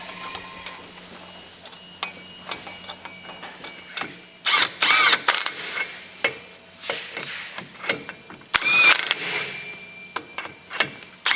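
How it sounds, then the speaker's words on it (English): Wheel spacers of 80 mm are fitted to a Ford Ranger, with a series of close metallic clinks, ratchet clicks and tool knocks scattered irregularly throughout. "now getting the spacers on"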